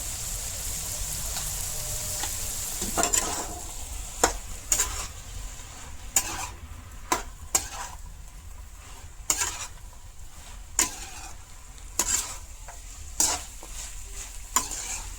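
A vegetable curry of bamboo shoots, jackfruit seeds, banana flower and ground spices is stirred as its water cooks off, with repeated sharp spatula scrapes against the pan over a soft, steady sizzle.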